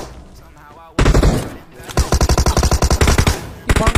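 Rapid automatic gunfire from a video game shooter crackles loudly in repeated bursts, following a brief quieter stretch at the start.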